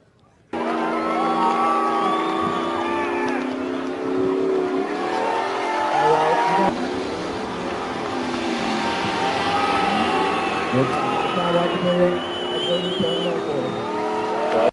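Cars doing burnouts at the SuperNats car show in Australia, with loud revving engines and screeching tires continuing throughout amid crowd noise and cheering.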